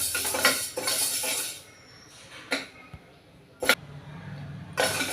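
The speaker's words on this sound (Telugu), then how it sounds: "పప్పుని కొంచెం బ్రౌన్ కలర్ వచ్చినంత వరకు దోరగా వేయించుకోవాలండి." Dry lentils being roasted and stirred in a pan on a gas stove for mudda pappu, with bursts of utensil scraping and clinking against the pan, broken up by quieter pauses.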